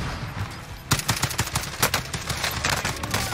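Loud, sustained automatic gunfire from a weapon in the video game Warzone, with rapid repeated shots continuing steadily throughout.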